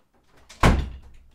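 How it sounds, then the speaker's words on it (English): A door swings shut with a single solid thump, preceded by a faint rustle of movement and followed by a short fading rumble, close by in a quiet room. "do you mind closing the door, please?"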